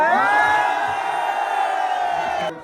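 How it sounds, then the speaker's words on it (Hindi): A large crowd at a political rally with Asaduddin Owaisi roars and cheers in a sustained, loud collective shout that holds steady before cutting off abruptly. "सब लोग चिल्लाने लगते हैं"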